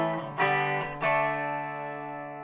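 Bridge single-coil pickup of a 1981 Westone Thunder 1 electric guitar, played alone: two strummed chords about half a second apart, each ringing out bright and sustained before slowly fading.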